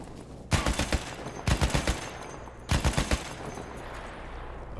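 Video game gunfire in three rapid bursts of sharp, loud shots aimed at an enemy's head, each burst a quick rattling volley separated by short pauses.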